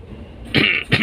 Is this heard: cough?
yes